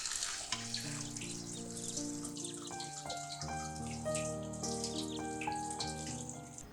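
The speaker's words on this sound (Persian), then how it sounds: "وقتی هم که باقالیا نیم پز شدن اونا رو با آب سرد آبکش میکنیم" Cold water splashes steadily over parboiled fava beans in a colander, with clattering harmonic tones on top and no talking.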